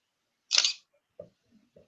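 A single camera shutter click from a camera set to single shooting: one crisp, close mechanical snap followed by a few faint small clicks in an otherwise quiet room.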